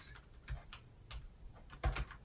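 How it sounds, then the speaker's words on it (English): Fingers tap on a computer keyboard in short irregular bursts of clicks, close and fairly quiet, with a couple of louder keystrokes near the end and no voices. "My typing's getting worse as I get older."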